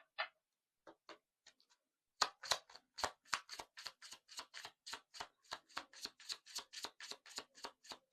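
A deck of tarot cards being shuffled close up: a few scattered riffles, then a long, even run of crisp snapping card flicks in a fast regular rhythm, quiet and alone.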